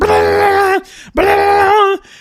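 A voice imitates a harsh alarm ring with two loud, buzzy, sustained tones separated by a short pause.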